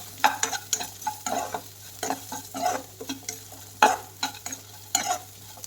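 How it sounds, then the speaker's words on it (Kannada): Onions and tomato frying in a pan, stirred with quick repeated scraping strokes over a soft sizzle, close and irregular in rhythm with no talk. "ಈರುಳ್ಳಿ 1 ನಿಮಿಷ ಬೆಂದಮೇಲೆ ನಾವು ಟೊಮೊಟೊ ಆ್ಯಡ್ ಮಾಡ್ಕೊಳ್ಳೋಣ"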